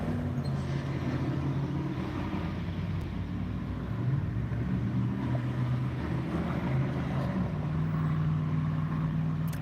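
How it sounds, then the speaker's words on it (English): A bobtail Peterbilt truck drives past on a road, its engine a steady low rumble that holds throughout without talking. "We got a bobtail Peterbilt coming this way now."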